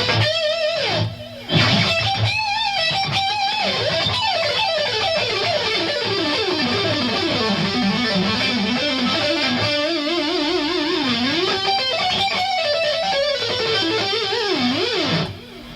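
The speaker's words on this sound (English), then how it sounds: "real loud lead sound with chorus and echo on it." An electric guitar plays a loud, sustained lead line through chorus and echo effects. Bends and vibrato run across melodic phrases for about fifteen seconds, with no talking.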